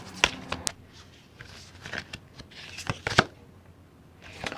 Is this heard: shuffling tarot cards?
yes